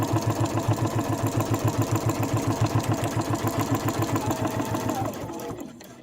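A sewing machine stitches a cross-body sling bag in a fast, even run of mechanical pulses, close and steady, then slows and stops near the end.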